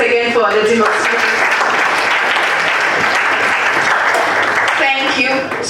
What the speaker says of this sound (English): Let's clap once again for the demonstration.